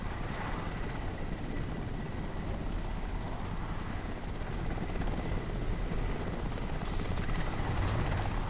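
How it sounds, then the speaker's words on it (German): A helicopter in the video game Crysis gives off a loud, steady rotor and engine drone that fills the whole stretch without a break, with no talking over it. "Ich mag diesen Hubschrauber nicht"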